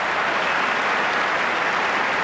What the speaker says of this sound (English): Even Agassi applauded this effort